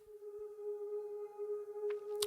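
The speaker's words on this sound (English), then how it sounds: "next up, I've got a little breathy vocal pad from the Oliver Patrice" A breathy vocal pad synth plugin in a lofi jazz hip hop track holds a steady sustained tone with soft airy overtones, with a couple of faint brief clicks near the end.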